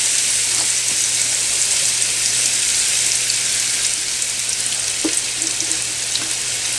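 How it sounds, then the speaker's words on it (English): Steady, dense sizzle of food frying in hot mustard oil, loud and close, with a low hum underneath and a few faint clinks. "The oil is hot, and we're going to put this in here. We're going to start frying this up."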